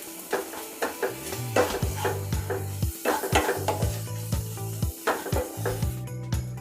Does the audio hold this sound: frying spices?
yes